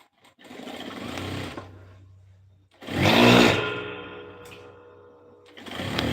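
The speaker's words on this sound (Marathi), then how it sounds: "आणि मग परत अजून एक टीप आहे ती मारून घेऊ आपण" A sewing machine stitches a seam on the front piece of a size 34 katori blouse in two steady whirring runs separated by a short pause, close and moderately loud.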